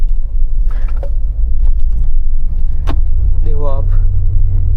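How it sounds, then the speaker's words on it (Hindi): Mahindra Thar Roxx SUV pulling away in first gear over rough concrete off-road ground, a loud steady low engine drone under someone talking close by, with brief clicks and knocks from the cabin. "फर्स्ट गियर में डाल दी हमने और देखो एकदम स्मूथली आगे से बढ़ जाती है ये"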